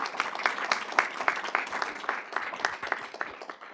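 Audience applause for a speaker at a public diplomacy talk: a room of people clapping steadily for several seconds, dense and moderately loud with no talk over it.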